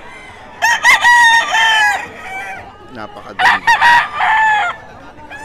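A lemon sweater gamefowl rooster crows twice at a bustling market in Bocaue, each loud, close cock-a-doodle-doo rising and trailing off, with a brief spoken word and background chatter around the calls.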